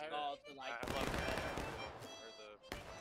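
A burst of massed musket fire in the Civil War game War of Rights: loud, dense crackling gunfire that runs for about two seconds, with voices talking before it and again over the tail.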